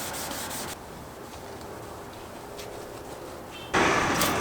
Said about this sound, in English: still just sanding by hand